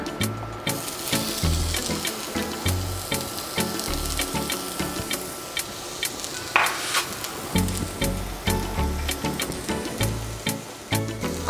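Onion and garlic sizzle in a tablespoon of hot oil, a bright crackling fry with rhythmic stirring and scraping strokes throughout, close and fairly loud.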